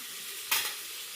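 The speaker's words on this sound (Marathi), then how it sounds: "कांदा परतून घ्यायचा आधी लागलं कांदा परतलायचा. आता त्यात तेल टाकलं थोडंसं." Onion is sautéed in a little oil in a pan, giving one short, sharp sizzling burst that quickly fades back to a quiet, steady hiss, with no voices.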